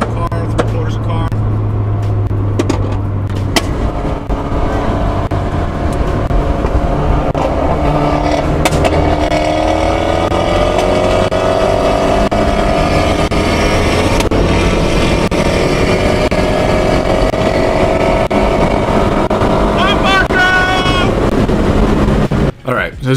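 A Fiat 124 Spider Abarth engine on a dynamometer, droning loud and continuous with rising revs through a pull, while someone talks over it throughout.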